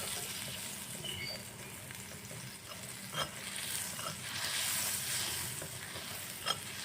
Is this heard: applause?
no